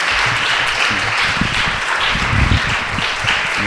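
Church congregation applauding together, a broad steady wash of clapping that holds for several seconds at moderate loudness, with faint voices mixed underneath.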